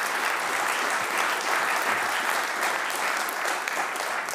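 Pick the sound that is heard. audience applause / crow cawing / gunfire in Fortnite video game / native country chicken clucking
audience applause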